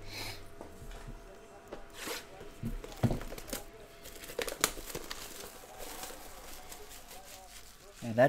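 Foil Panini Certified basketball card pack (2019-20) tearing open with crinkling, ripping rustles through most of the stretch, close and moderately loud, broken by brief chatter.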